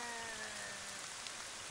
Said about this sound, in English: Anyways, now that it's raining and there's a hole in the ground.